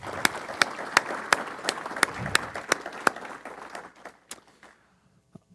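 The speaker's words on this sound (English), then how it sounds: "Please give them one more round of applause." A conference audience applauds a stage panel at a workplace diversity event in Sioux Falls, a steady round of hand claps with a few sharp louder claps, thinning out and fading to near silence by the end.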